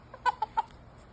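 A rooster roaming among other chickens gives three quick, soft clucks in a row, close but faint against a quiet outdoor background.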